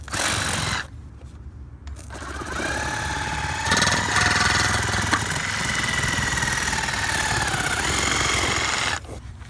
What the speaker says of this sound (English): I'll use the Sawzall here to